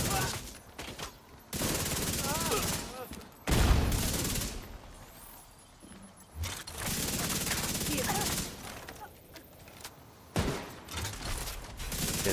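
Gunfire in the video game The Division 2 comes in loud, close bursts of rapid shots broken by short pauses, with crashes and game effects mixed in and a voice talking at times between the volleys.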